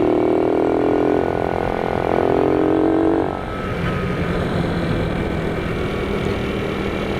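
A small motorcycle engine runs steadily after being restarted, its carburetor not quite tuned; a loud, continuous idle with a brief dip in level partway through, then a rougher, lower running tone.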